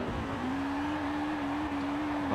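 Honda Prelude with a VTEC engine in the Forza Horizon 4 racing game, revving high and holding a steady, sustained engine tone that climbs sharply at the very end, loud and continuous with no talk.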